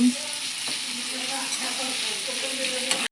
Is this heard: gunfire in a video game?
no